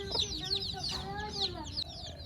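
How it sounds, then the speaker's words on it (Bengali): Desi hens and small chicks on a rooftop poultry farm, with repeated high chick peeps and soft hen clucks close by, over a steady low background hum and occasional faint voices. "এগুলো হচ্ছে মুরগির বাচ্চা।"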